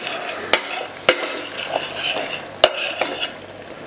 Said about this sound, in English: the onion paste that I made with the garlic and the ginger and the couple of green chilies. I'm just going to put that in.